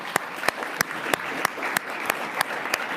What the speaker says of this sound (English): please join me in giving a round of applause to our esteemed panelists here.